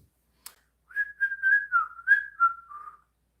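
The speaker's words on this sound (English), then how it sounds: "Can anyone here not whistle?" A person whistles a short wavering tune of several sustained notes, close and clear, alone after a brief click, lasting about two seconds.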